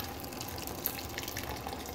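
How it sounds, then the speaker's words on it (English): Liquid from chicken and sausage gumbo drains through the holes of a gumbo ladle, a faint, close trickle and patter of dripping back into the pot, with no talking. "you drain your liquid out"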